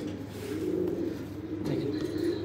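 Pigeons from a prized collection coo in low, rolling, overlapping calls close by, steady and fairly loud throughout at night.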